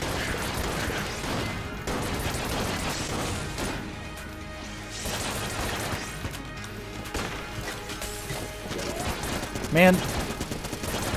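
Rapid automatic gunfire from the video game Enter the Gungeon, dense and continuous over a music-heavy game soundtrack, with a voice speaking briefly and a sharper impact near the end.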